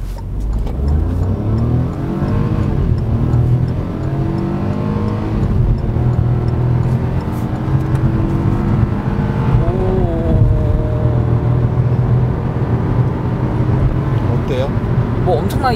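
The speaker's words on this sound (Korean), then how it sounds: "급가속을 한번 해보시죠." A Kia Stonic with a 1.0 turbo gasoline engine accelerating hard, engine note climbing steadily through rising revs with shifts, heard from inside the cabin with people talking over it.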